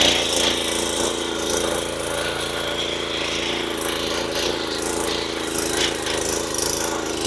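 Power tiller engine running in second gear, a steady rattling mechanical drone with a low throbbing idle note, close and fairly loud, no voices heard.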